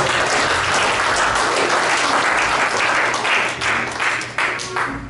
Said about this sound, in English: Don't you get the Lord another hand clap?